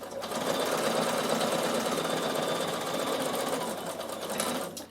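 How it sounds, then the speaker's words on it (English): A Bernina sewing machine fitted with a Teflon foot edge-stitches laminated cotton for a beach bag, giving a steady, close, continuous whirring hum that runs unbroken for several seconds. "I'm going to show you the Teflon foot next for sewing in the base"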